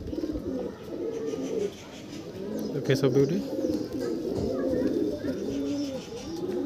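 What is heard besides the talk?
pigeons cooing in a loft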